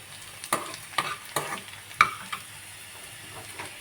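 Spices frying and being stirred in a pan for a chutney, with a steady low sizzle punctuated by several sharp scraping clinks of a spoon against the pan at irregular intervals, close and fairly quiet.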